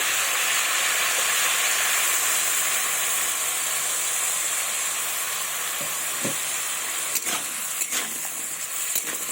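A pan of papaya and drumsticks steams and sizzles in a steady loud hiss after water is added, with a few faint clinks and knocks of utensils toward the end.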